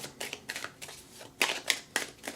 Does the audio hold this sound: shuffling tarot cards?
yes